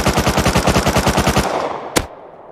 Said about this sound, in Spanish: ¿Lo has disparado? Sí, le he dado una.